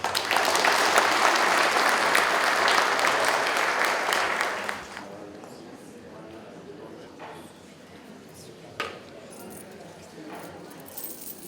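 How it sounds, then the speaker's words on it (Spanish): Crowd applause at a patron saint festival for Apostle Santiago in Tintay, Apurímac, loud and sustained for about five seconds, then fading to quiet murmuring with a few scattered claps and small knocks. "Un fuerte aplauso, por favor."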